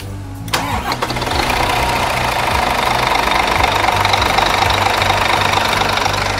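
A tourist bus engine on a luxury chassis cranks briefly, catches and settles into a loud, steady idle with a rough, knocking rumble that runs on without talk.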